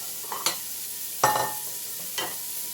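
Lardons frying in a little oil for bolognese, a soft sizzle broken by three sharp scraping stirs, close and unaccompanied by speech.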